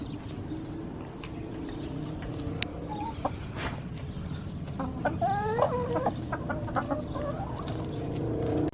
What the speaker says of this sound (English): Here's a sneak peek at the chickens enjoying the spinach.